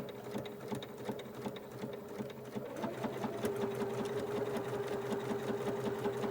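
A sewing machine runs steadily while stitching a seam down to the end of a piece of fabric for a sample organizer, making a close, even whir with rapid stitch pulses that swell slightly midway. No one talks.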